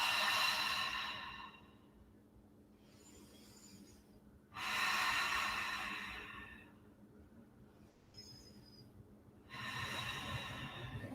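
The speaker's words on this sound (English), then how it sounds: "3 breaths." Slow, deep breathing during a yoga spinal twist on the floor in a studio class: three long, airy breaths, close and soft, separated by quiet pauses with no talking.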